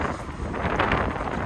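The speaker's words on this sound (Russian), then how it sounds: "действительно задувает такой пронизывающий ветер" A piercing cold wind blows along a city street in Donetsk in winter, a soft steady rushing roar with no voices.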